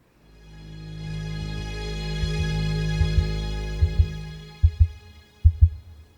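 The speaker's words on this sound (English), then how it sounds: "That heartbeat." A slow, deep heartbeat opens a song, its steady thumps growing louder and more pronounced over several seconds with no voices.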